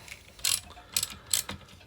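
A ratchet clicks in three quick bursts while backing bolts off the front rack of a Honda Big Red, close and crisp against a quiet background.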